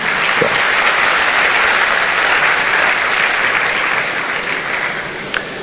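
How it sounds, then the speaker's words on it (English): Sustained audience applause fills a hall at a university programme launch in Ghana, a dense, steady wash of many hands clapping at once that holds loud and even before easing slightly near the end. "Another round of applause here, ladies and gentlemen, for Professor Kweku Mawuto, Vice Chancellor UPSA."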